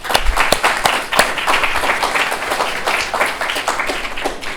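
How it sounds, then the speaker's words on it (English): Audience at a university innovation challenge final applauding the judges, a steady patter of clapping from a modest crowd, fairly close and alone. "Let's give them a round of applause."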